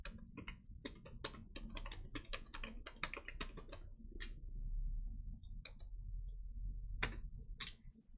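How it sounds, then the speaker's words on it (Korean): Rapid clicking keystrokes on a computer keyboard during spreadsheet work, a quick run of presses followed by a few sparser isolated clicks, close and clear with no talking. "컨트롤 C 누릅니다"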